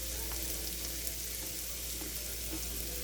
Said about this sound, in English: And I just want to saute these up.